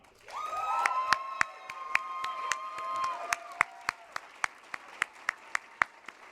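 Applause at a general council meeting of a youth political organization as the new vice-president is named, a warm crowd of clapping swelling then settling into regular rhythmic claps, with some faint cheers and whistles.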